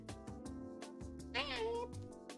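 A cat meows once, a rising then falling cry, over a steady musical backdrop with chatter around it.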